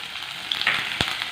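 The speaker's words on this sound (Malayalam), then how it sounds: "ഒരു ചെറിയ പീസ് ഇഞ്ചി ചേർത്ത് കൊടുക്കാം." A small piece of ginger hits hot oil just after mustard seeds have crackled, giving a steady close sizzle with a couple of sharp pops toward the end.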